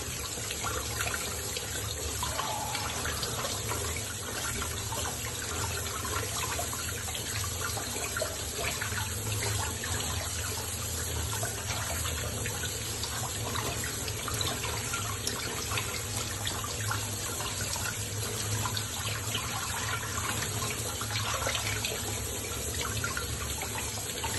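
Tap water runs steadily onto fenugreek greens held in a sieve in a home kitchen, a constant close splashing hiss that carries on unbroken for the whole span.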